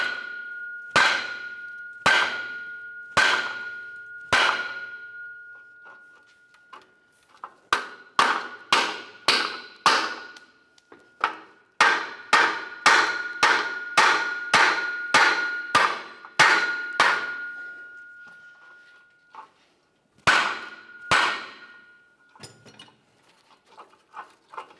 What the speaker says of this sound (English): We'll use a hammer to separate this rearward joint.